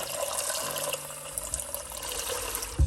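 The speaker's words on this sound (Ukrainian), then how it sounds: "Наливаємо водичку" Water poured into a cooking pot over black beans: a steady, continuous splashing stream, close by, with no talk.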